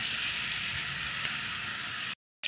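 Garlic fries in a hot pan with a bright, continuous sizzle heard close up, then it cuts abruptly to silence near the end.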